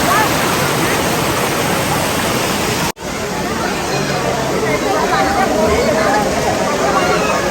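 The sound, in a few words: river water flowing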